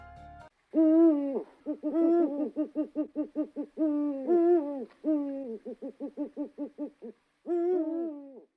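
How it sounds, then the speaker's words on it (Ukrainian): An eagle owl gives clear, close hoots in rhythmic series. Longer calls alternate with quick runs of short, evenly spaced hoots, and no other sound is heard. "Вовк виє, а пугач пухає."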